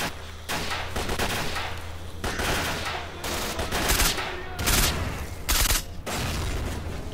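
Rapid gunfire in the STALKER video game, repeated loud shots and short bursts spread through the stretch over a continuous background rumble, with no voices.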